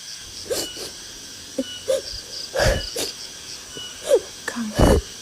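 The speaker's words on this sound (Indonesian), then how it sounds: "itu suara nangis" Eerie crying in a village comes as irregular sobbing gasps and wheezy, breathy bursts, spaced apart over a faint hissing, cricket-like background. The sounds are moderately loud, with no clear speech.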